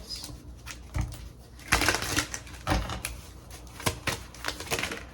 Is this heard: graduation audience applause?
no